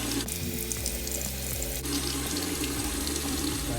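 Hot water gushing steadily from a tap into a sink, a continuous close splashing rush with small shifts in flow and no voices.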